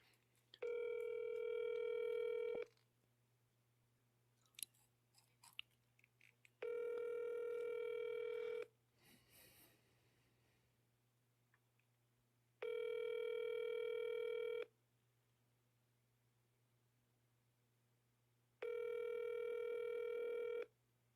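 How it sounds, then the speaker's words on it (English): A telephone ringback tone sounds while a call is placed, four steady long tones separated by pauses of several seconds, clear and alone over a faint constant hum, with a few small clicks between them. "We're going to call him back."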